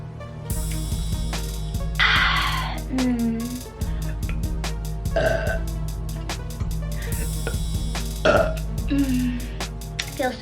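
A woman dressed up for an occasion lets out a long, loud, close burp, followed by several more burps over steady background hum.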